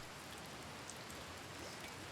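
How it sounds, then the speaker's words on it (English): Steady rain in the RimWorld video game, a dense even hiss of falling drops with no other sounds, holding at a constant moderate level throughout. "I might hear like the rain."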